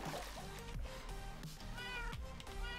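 A cat meows in Minecraft, several short game-style mews repeating over a busy backdrop of tonal music and trickling water, fairly close and steady throughout.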